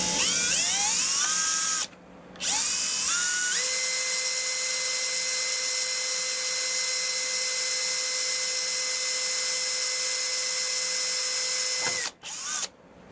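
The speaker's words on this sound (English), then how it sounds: "We will use the drill to make the small hole" A high-pitched electric drill whines steadily for several seconds while boring a small hole beside the roller of a sliding balcony door, spinning up after a brief pause and winding down at the end.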